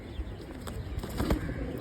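White pigeons coo softly at close range with faint rustling and wing movement, a quiet, brief stretch of low murmuring calls and shuffling sounds.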